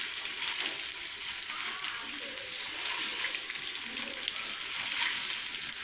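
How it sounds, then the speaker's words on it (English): Cheesy mushroom spaghetti with sauce and mozzarella is stirred in a frying pan. A steady, close sizzle and bubbling hiss carries throughout, with soft stirring scrapes underneath. "Now mix all the ingredients well in the pan."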